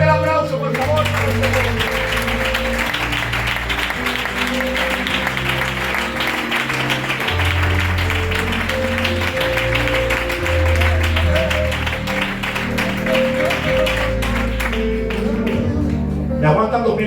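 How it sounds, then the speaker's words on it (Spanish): A church congregation applauding during a worship service, sustained rhythmic clapping over loud music with deep bass and sustained tones, continuing energetically for the whole stretch. "Fuerte el aplauso, por favor"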